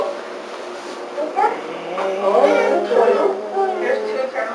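A pet dog at home gives a few short yips and whimpery barks, close by and fairly loud, mixed with room noise and some voice-like sounds.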